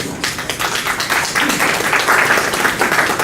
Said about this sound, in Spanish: a quien también recibimos con fuertes aplausos.